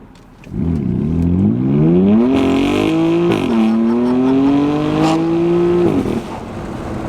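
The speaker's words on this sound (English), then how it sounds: "Let's come to a complete stop here and just floor it." A BMW M3 F81 Touring wagon with a modified exhaust accelerates hard from a full stop, its engine and exhaust note climbing steadily through gears with brief pauses at each shift, loud and close.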